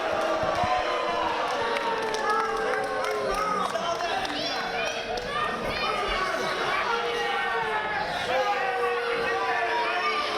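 Pro wrestling crowd jeering Devon Shooter during his match with Matt Maverick, a dense continuous roar of shouts and chatter from many voices filling the hall, with a commentator's voice mixed in.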